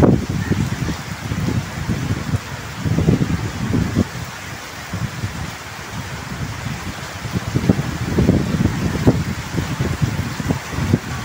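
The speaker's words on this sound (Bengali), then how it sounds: "প্রচুর বৃষ্টি হইতেছে, প্রচুর বৃষ্টি হইতেছে" Heavy rain pouring outdoors at Savar, Jahangirnagar, a loud dense wash of falling water with gusty surges and patters, close and continuous without speech.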